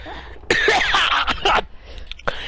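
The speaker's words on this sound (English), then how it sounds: "you cough really loudly into a mic" A loud cough blasted straight into a microphone during a Conker's Bad Fur Day gaming session, two or three harsh close bursts followed by a fainter throaty tail, heard alone without speech.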